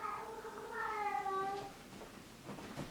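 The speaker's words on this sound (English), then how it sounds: "You can probably hear my cat." A domestic cat lets out a faint drawn-out meow indoors, rising then falling, with soft room noise around it.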